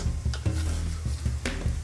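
Falafel balls sizzle and bubble steadily in hot boiling oil, a close, continuous frying hiss with faint ticking clatter of a utensil and no talking.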